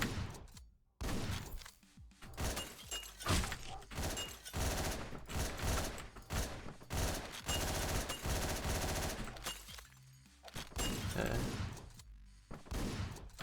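Rapid automatic weapon gunfire in the top-down shooter Hotline Miami 2, loud bursts of shots with brief gaps, several volleys in a row, a voice briefly heard between them.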